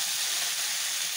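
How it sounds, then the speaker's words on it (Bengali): Fish and potatoes frying in a pan with a steady, close, even sizzle and hiss throughout, no voices. "এটা একটু ফ্রাই হোক, ভেজে নিয়ে একটু"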